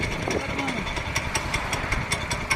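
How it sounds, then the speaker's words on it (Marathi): A 7 HP chain cultivator engine runs with a steady, pulsing chug close by, while people talk over it. "या 7 HP चैन कल्टिवेटरचा वापर तुम्ही करू शकता"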